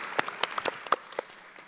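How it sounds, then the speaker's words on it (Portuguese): A small audience at a school library forum claps faintly: a handful of sparse, separate hand claps spread over a short moment, fading out toward the end. "Eles merecem uma salva de palmas."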